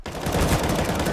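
An AK rifle sprayed on full auto in a video game, giving a loud, dense burst of rapid shots at close range.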